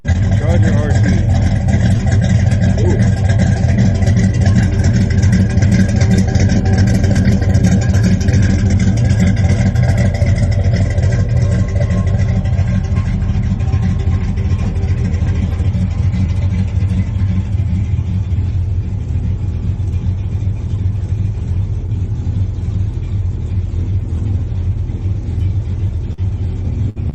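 A Mopar Dodge Charger R/T muscle car engine rumbles loud and close with a steady deep idle and revving throughout, its tone thinning slightly toward the end.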